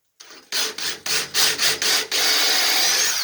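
A drill bites into wood with a few short bursts of grinding, then settles into one steady, continuous whir. Loud and close, with no voices.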